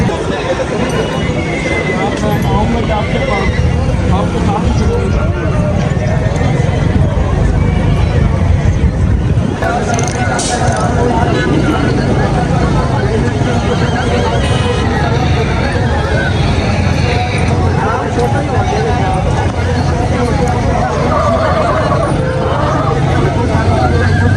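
Busy outdoor horse and cattle market at Amin Pur Bangla, with a steady crowd hubbub of many voices throughout and occasional horse whinnies and hoof clops mixed faintly into the din.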